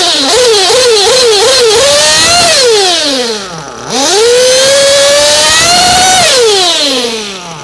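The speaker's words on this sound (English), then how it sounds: "I'll clean the motor out, and then I'll just pull the throttle open very slowly" Two-stroke motor revving loudly on a slow throttle opening after a clean-out blip or two, the pitch climbing smoothly, dipping briefly, then rising and holding high; it runs on VP race fuel.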